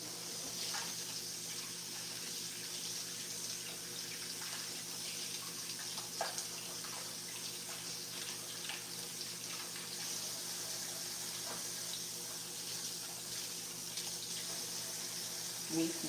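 Tap water runs steadily into a kitchen sink while something sticky is washed off during Jamaican soup cooking, a continuous close hiss with faint clinks and no talking.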